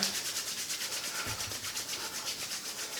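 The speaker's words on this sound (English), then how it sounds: "Now I'm going to rub my hands together," Oiled palms rubbing briskly together, a soft rhythmic swishing friction repeated at an even pace, close and quiet with no talk.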